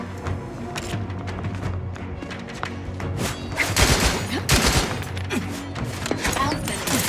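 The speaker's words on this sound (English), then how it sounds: "That's a grenade." Grenade explosion in the video game The Outer Worlds 2, heard as loud bursts and thumps mixed with a rattle of gunfire, building to a heavy blast midway through a chaotic firefight.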